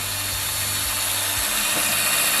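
Power drill spinning a painted colour-mixing disc, a faint steady whir with a few low bumps and knocks as it runs, heard close with no talking.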